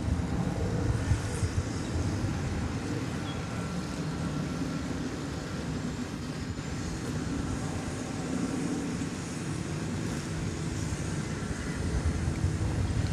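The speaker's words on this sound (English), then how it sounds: "It's a 21-year-old Airbus A300." A 21-year-old Airbus A300 airliner at DFW Airport after arriving from Little Rock, giving off a steady broad engine roar and rumble that stays fairly even throughout, with wind noise and no voices.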